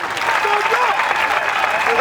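Crowd applause at a political gathering, a steady wash of clapping throughout with voices and tonal sounds mixed in.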